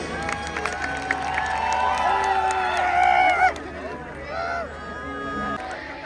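A large crowd at a live outdoor concert in a Punjabi village claps and cheers in a sustained wash of applause, with musical tones and a voice over the top before it fades.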